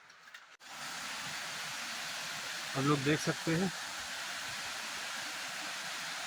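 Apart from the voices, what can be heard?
waterfall flowing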